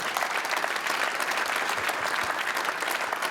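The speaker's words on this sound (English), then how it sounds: "Give him a big round of applause, everyone." Audience applause at a public lecture event in Maastricht, a steady full clapping from a crowd filling the whole moment, loud and close.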